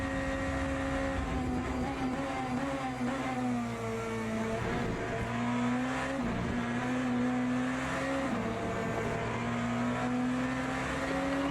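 BMW hypercar engine racing in Le Mans Ultimate, a steady loud engine drone with shifting pitch as revs rise and fall through gear changes, continuous and close for the whole stretch.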